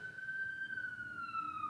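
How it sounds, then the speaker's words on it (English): A police siren wails steadily from outside, the sustained tone slowly falling in pitch as it passes, fairly faint and distant with no talk over it. "it's just a nonstop, flow of sirens"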